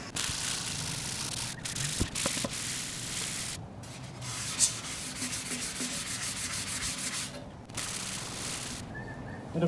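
A Honda ATC 200x ATV part is dry sanded by hand, a continuous close scratchy rubbing with brief pauses and stroke-to-stroke changes in loudness across the whole stretch.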